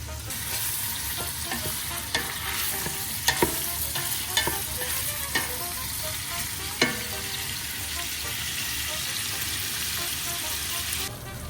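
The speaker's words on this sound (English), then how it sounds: "So once you cook your pork down and render out all that fat, it's gonna look just like this." Pork frying in a pot as its fat renders, a loud, continuous close-up sizzle with a few sharp pops and stirring knocks scattered throughout, no talking.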